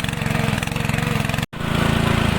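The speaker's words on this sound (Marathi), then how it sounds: "बघा ट्रॅक्टरची पद्धत बघा कशी आहे तिकडे." A tractor engine chugs in a paddy field during rice planting, a loud, close, rapidly pulsing mechanical drone with a steady rhythm, briefly cut by a dropout midway.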